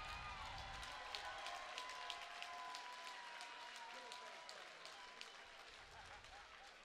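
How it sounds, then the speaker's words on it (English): Crowd at a cage fighting event applauding after a bout, a steady wash of clapping and cheering from the audience, fairly faint and distant throughout. "let's get a round of applause for what is easily fight of the night"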